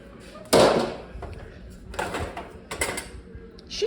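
A springform pan slides into a 350-degree oven with a sharp metallic clunk, followed by softer rattles and knocks of the rack and door, close by in a home kitchen.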